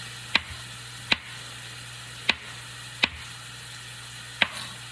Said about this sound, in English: I like slicing them.